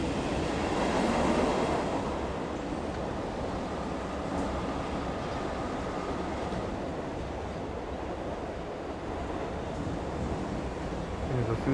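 Monorail train from the video game The Simpsons: Tapped Out, a steady rushing rumble of the moving train that holds at an even level for the whole stretch and swells slightly at the very end.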